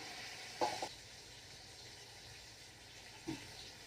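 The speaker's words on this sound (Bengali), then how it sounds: "আমি পটলগুলো ভাজতে বসিয়ে দিই তেল গরম হয়ে গেছে" Pieces of pointed gourd (potol) fry in hot oil, a faint, steady sizzle with two soft clinks of stirring, close and without talk.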